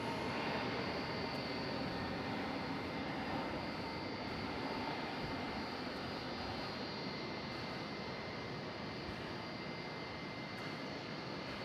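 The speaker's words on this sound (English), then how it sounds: "This is an A321" American Airlines Airbus A321neo jet taking off at Dallas–Fort Worth airport at night, a steady broadband engine roar, moderately distant and unbroken throughout with no voices.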